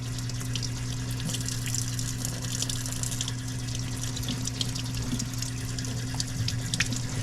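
Running tap water pours steadily into a sink as salted bitter melon is rinsed, a constant moderate gush with faint splashes and no talking.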